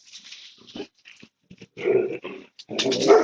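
A playful puppy growls and whimpers in short close bursts separated by silences, with the growls getting louder and more sustained toward the end.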